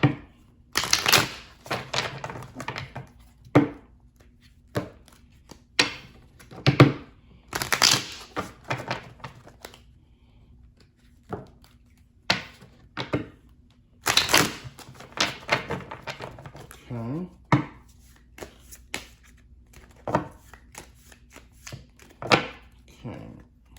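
Tarot cards being shuffled and handled during a reading, with repeated riffles, slaps and soft flicks in irregular bursts, close by, alongside intermittent speech.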